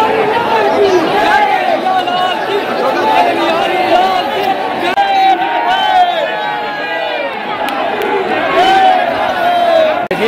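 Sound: crowd chatter at Barsana Radha Rani temple Holi

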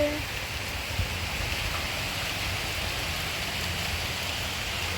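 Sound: rain falling

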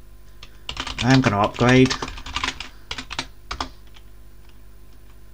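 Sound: typing terminal commands on a computer keyboard

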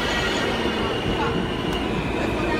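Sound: R160 subway train approaching Prospect Park station

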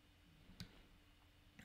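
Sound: computer mouse right-clicking

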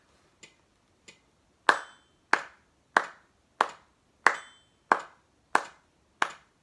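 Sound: hands clapping

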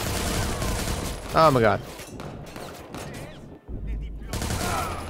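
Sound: gunfire in video game Watch Dogs 2

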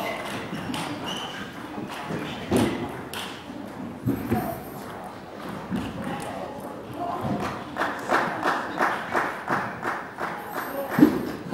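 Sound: coaches clapping at the side of a table tennis match

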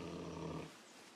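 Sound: animal growling in Open Country video game

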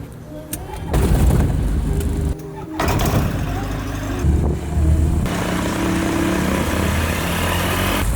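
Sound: small airplane engine starting up

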